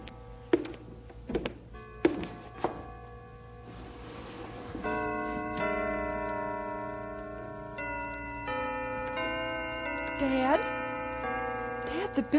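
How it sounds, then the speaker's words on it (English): Bells ring out in an old-time radio drama, a sustained chime of layered tones that swells in the middle, with sharp knocks and thuds before it and speaking voices around it. "Listen, the bells. They're working again."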